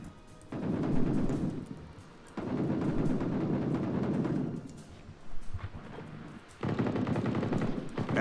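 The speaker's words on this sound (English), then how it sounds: "I want to get one more armor-piercing shell in that tank." Heavy gunfire from a tank battle in the video game Call to Arms: an armor-piercing round and booming cannon blasts come in long, loud rumbling bursts separated by brief lulls, with no voices over them.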